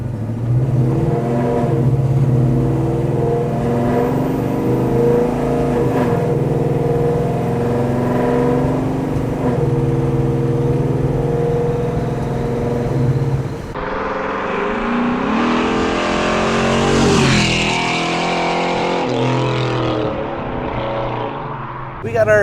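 A 1968 Mustang Fastback restomod with a Coyote 5.0 engine, a loud, steady rumble that swells and shifts, then a sudden change to a brighter, rising whir partway through as it drives and maneuvers.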